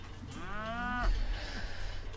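A cow grazing on pasture during traditional herding gives one rising, drawn-out moo at close range, over outdoor wind and rustle, with no talk.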